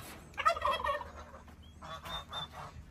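Turkeys gobble in a pen fenced with chicken wire, a loud rattling gobble followed by softer, fainter calls nearby, with no speech.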